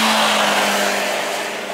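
A Honda HR-V RS Turbo engine roars loudly and steadily, accelerating with a broad, rushing sound on the Mandalika circuit track, fading slightly toward the end.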